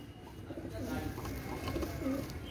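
A pigeon at a pigeon seller's coos softly a few times, faint and close, with low background noise around it.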